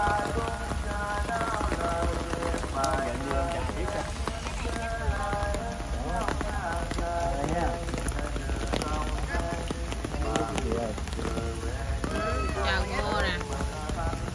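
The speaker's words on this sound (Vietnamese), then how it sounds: "Công nhận trời mưa." Rain patters steadily on a surface during an outdoor gathering at a grave site, with people talking throughout over the constant hiss of the downpour.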